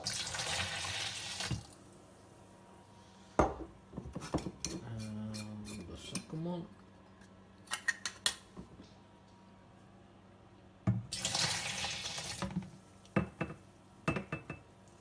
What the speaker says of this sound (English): I'm going to pour the liquid that's in the mason jars into the fermentation bucket